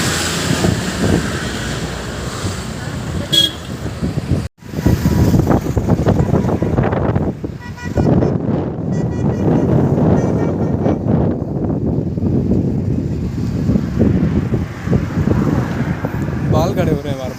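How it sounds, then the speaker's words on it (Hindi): Strong wind blows outdoors, roaring steadily and buffeting the microphone throughout, with people talking over the rushing noise. "हवा चल रही है ना बढ़िया"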